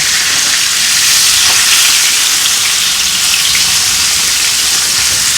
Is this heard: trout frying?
yes